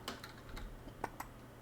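Keystrokes tapped on a computer keyboard during a livestream, a short scattered run of soft clicks with two slightly sharper taps near the end, quiet and close with no talking.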